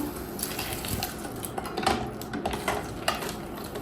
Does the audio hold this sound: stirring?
yes